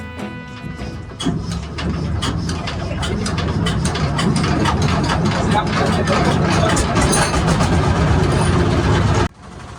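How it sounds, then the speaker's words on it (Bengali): A shallow-type engine on a country boat starts and runs, giving a loud, steady mechanical drone with rapid knocking pulses that persists for most of the stretch before stopping abruptly near the end. "অতপর স্টার্ট দেওয়া হলো স্যালঞ্জিন চলতে শুরু করলো নৌকাটি"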